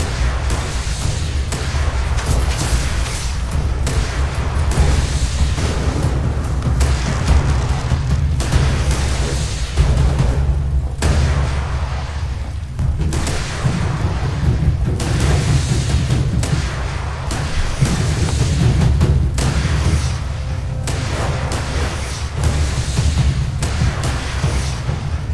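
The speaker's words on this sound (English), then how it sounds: "fireworks." Fireworks exploding in the video game Fallout 76, a continuous string of booms and crackling pops layered over a heavy low rumble, loud and sustained throughout.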